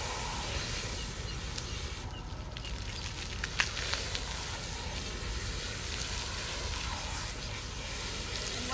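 Water sprays steadily from a hose nozzle, rinsing a Newfoundland dog with a soft continuous hiss that carries on throughout at a moderate, even level.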